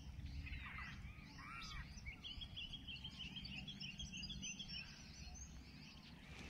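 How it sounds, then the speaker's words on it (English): Varied bird calls carry from a quiet area near a shoreline, with faint chirps and trills over a soft, steady background rumble. "Right behind me there's so many different sounds of bird calls."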